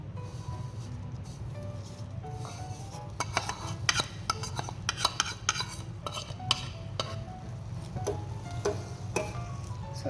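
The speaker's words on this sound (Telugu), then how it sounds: "సో సేమియా వేసిన తర్వాత అడుగంటకుండా కలుపుతుందాము." A spoon stirs fried vermicelli into boiling milk for payasam in a metal pot, giving soft scraping clinks over a low bubbling simmer, fairly quiet and without talk.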